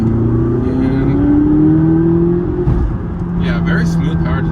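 A 2017 McLaren 570GT with a 3.8-liter engine accelerates in traffic, a loud steady rising drone from inside the cabin, with a brief shift dip midway.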